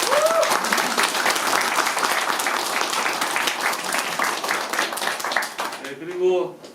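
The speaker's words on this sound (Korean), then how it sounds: "박수로 받아주십시오." A crowd at an outdoor presidential campaign rally in Pocheon breaks into sustained clapping, a dense rapid patter for about six seconds before tapering off as a voice comes in.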